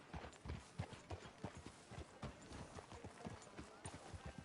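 Horse hooves in Red Dead Redemption 2, a steady close clip-clop of a walking gait, even and rhythmic, with faint background voices.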